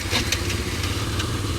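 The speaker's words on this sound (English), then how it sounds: "Just turn on the engines" ATV engines idling outdoors in Okinawa, Japan: a steady low rumble with a faint regular pulse, close and fairly loud, with no talk.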